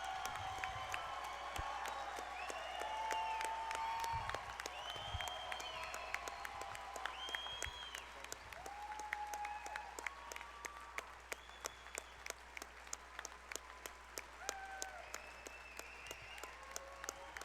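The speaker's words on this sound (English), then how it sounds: "one more round of applause as loud as you can for Sergeant Kyle D. Jones." Sustained applause from a fight-event crowd at a guest of honor presentation, a dense wash of clapping with scattered whoops and cheers rising over distant talk, holding steady throughout.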